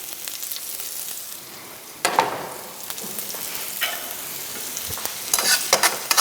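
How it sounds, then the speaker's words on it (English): Oil and garlic sizzling in a pan, a steady close crackle with sharper bursts as more food is stirred in, no voices. "I can already hear the oil and the garlic that I've already put in the pan sizzling"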